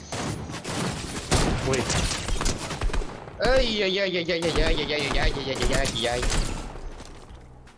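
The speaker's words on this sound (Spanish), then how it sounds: "De atrás me dispararon, pero no sé dónde." Video game gunfire aimed at the player, a rattling volley of shots mixed with a man's yelps and exclamations, followed by a warbling mechanical tone under continued shooting.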